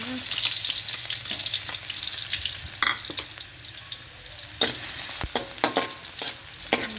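Garlic sizzles and fries steadily in a hot pan with occasional stirring scrapes, close and loud, for a Thai stir-fry of khajorn flowers with pork and egg; no talking.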